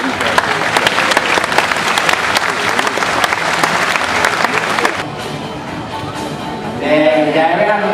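Live audience applause for a trained animal demonstration in Australia, loud and steady for about five seconds before dropping off sharply, then giving way to quieter crowd noise and voices.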